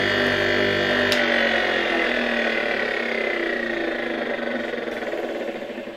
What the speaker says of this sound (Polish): Silnik całkiem ładnie od razu się uruchamia.